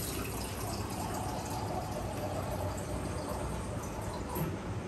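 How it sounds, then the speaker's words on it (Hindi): Water pours steadily into a cooking pot for mutton curry in a home kitchen, a continuous soft splashing rush lasting throughout at moderate distance. "मैं थोड़ा और पानी डालती हूँ"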